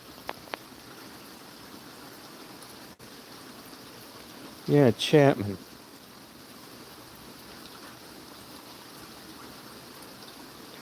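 Steady hiss of heavy rainfall fills the background throughout, with a brief burst of speech from a nearby voice midway.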